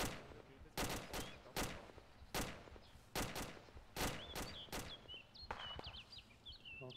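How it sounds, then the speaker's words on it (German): Gunfire in the military shooter game Arma 2 comes as a series of sharp, fairly distant shots at an uneven pace, some in quick pairs, with birds chirping faintly in the background. "wir haben das Feuer eröffnet"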